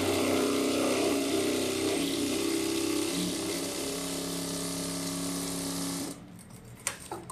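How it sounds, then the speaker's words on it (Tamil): Sewing machine running a continuous edge stitch along a boat-neck blouse, a close, steady mechanical whir for about six seconds that stops abruptly, followed by a few small clicks. "இப்போ இதில் வந்து எட்ஜ் தையல் போடுறேன்"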